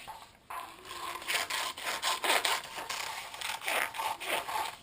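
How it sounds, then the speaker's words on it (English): Scissors cutting out paper airplane plans for foam board: repeated rasping, rubbing snips in uneven bursts, close and fairly quiet, with no voices. "I'll cut it out with scissors"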